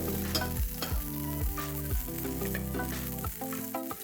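Stuffed plant-based keema paratha frying in oil on a pan gives a loud, steady sizzle, broken by a few soft thumps and scrapes as the flatbread is handled, with no talking.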